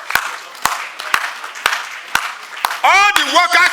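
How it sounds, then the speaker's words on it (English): Sharp, spaced hand claps ring out in a large arena of workers giving a standing ovation, about eight loud claps in steady rhythm, then a voice starts talking over the last ones. "give His Excellency a standing ovation with clapping for this feat"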